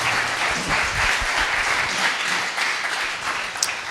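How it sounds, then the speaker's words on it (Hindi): A church congregation in Chembur applauds loudly after a prayer, a dense, sustained burst of many hands clapping together, steady and close throughout with no talk over it. "यहां जोर से ताली हो जाए।"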